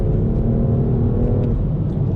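Inside a BMW M2 Competition under hard acceleration, the engine gives a dense, loud low growl that holds steady for a couple of seconds without any talking.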